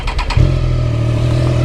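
A motorcycle starts up: a few short cranking bursts, then the engine catches and settles into a loud, steady idle close by, with no talk.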